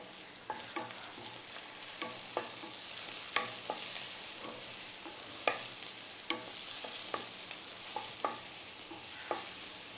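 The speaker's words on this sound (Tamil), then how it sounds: "இது இப்போ நான் எண்ணெய் போட்டு நான் இதை வந்து தாளிக்கிறேன்" Spices temper in hot oil for palak (spinach) soup with a steady bright hiss, punctuated by sharp scrapes and clinks of a spoon stirring the pan.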